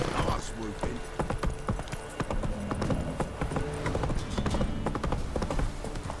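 Horse hooves clip-clop steadily through The Witcher 3 game world, a close, continuous rhythm of hoofbeats with a brief whinny, mixed with character voices and background game ambience.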